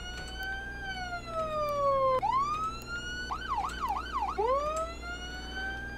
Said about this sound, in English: I don't want to listen to the siren.